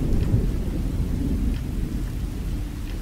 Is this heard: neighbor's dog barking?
no